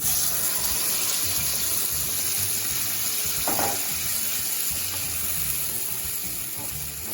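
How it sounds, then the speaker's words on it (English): Pineapple puree hits a hot pan in a steady, loud sizzle with a watery hiss that runs the full length, with a brief splashy burst near the middle and no voices. "Now we are going to add this pineapple puree."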